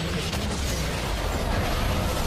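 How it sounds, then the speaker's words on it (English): A turret falls in a League of Legends match with a dense, rumbling explosion and crackling burst that fills the moment at steady loudness amid game noise. "and down goes the turret"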